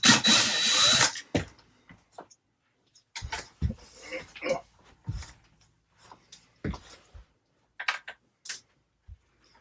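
A power drill driving screws into ducting inside a Grand Design Solitude 382WB-R RV, giving short whirring bursts with gaps between them, close by, alongside scraping and handling noises.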